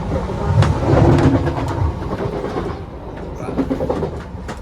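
A passenger train running from London to Brighton rumbles steadily from inside the carriage, with rhythmic wheel clatter on the rails and a louder surge near the start that settles to a lower rolling hum.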